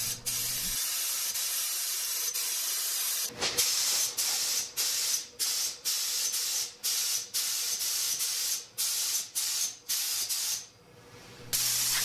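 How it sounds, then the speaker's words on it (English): Spray gun laying finish coats on a 70-year-old cedar chest, heard as a series of loud, close hissing bursts of a few seconds each, separated by short pauses, with a hiss after a quiet start. "On this chest, I ended up spraying four coats, which gave me the flexibility to spray lighter coats on the sides and front"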